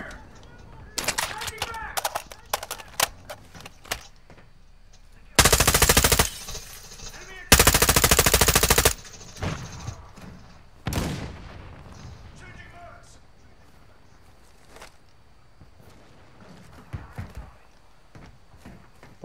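Rapid automatic gunfire from an M4 in the Modern Warfare II shooter, with two long sustained loud bursts plus scattered single shots and short volleys around them, in a busy game mix.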